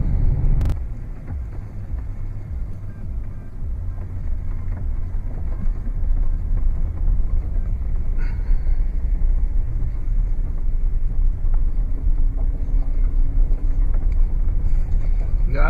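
A Hemi car pulls into a driveway with a steady, close, low engine rumble throughout, mixed with wind buffeting on the microphone.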